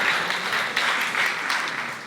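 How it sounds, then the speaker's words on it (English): Audience at a pageant introduction night applauding a prize winner, steady mid-distance clapping that holds evenly and tapers slightly at the end. "please give her a round of applause."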